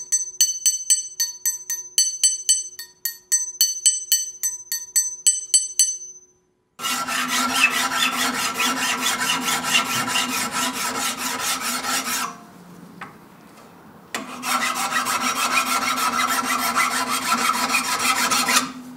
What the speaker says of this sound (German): Das ist jetzt Fläche feilen.